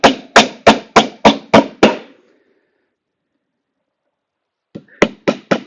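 Nails hammered into a wooden beehive box during assembly: a quick run of seven sharp, close, evenly spaced hammer strikes, then a pause of near silence, then four more blows, with no talking.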